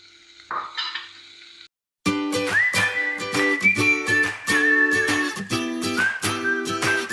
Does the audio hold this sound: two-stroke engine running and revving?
no